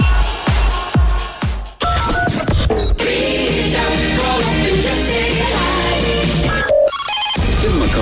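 A telephone bell rings in a few quick bursts at the start of a live local call-in radio show, then gives way to a loud, continuous music bed.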